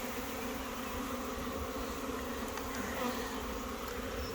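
A honey bee swarm just out of a hive buzzes in a steady, dense drone, fairly faint and continuous throughout, with no voices.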